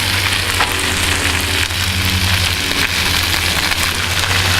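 Corned beef hash fries in a pan with a loud, dense, continuous sizzle and crackle, steady and close throughout, with no voices.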